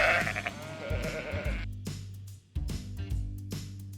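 Sheep bleat on a farm, a mother ewe and her lamb calling back and forth in several loud, wavering cries close by, with short pauses between calls.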